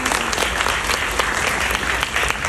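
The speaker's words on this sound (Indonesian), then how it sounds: "Tepuk tangan dong." An audience claps at a workshop event, giving dense, loud, continuous applause that fills the room throughout.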